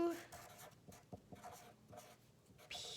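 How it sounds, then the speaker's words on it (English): A pen or marker scratches out short strokes on a paper page during a children's craft project, close and fairly quiet, with brief pauses between strokes. "on this last page, I'm going to write"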